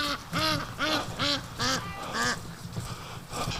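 Ducks quack repeatedly nearby, a rhythmic series of nasal calls overlapping one another with faint background noise.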